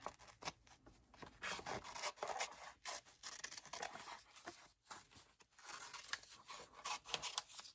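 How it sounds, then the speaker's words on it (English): Scissors cutting through paper ephemera for a nature journal, a close run of crisp snipping and rustling strokes with brief pauses, no voices. "I'll probably cut this part off."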